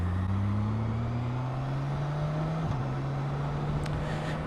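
A 1649cc BMW K1600B inline-six motorcycle cruises on a motorway, giving a steady, smooth engine hum with slowly rising pitch over constant wind and road rush, no talking.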